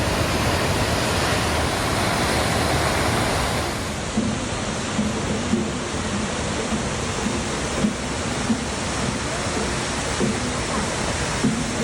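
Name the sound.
waterfall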